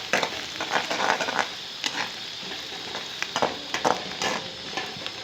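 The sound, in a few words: stirring garlic into frying onions in a pan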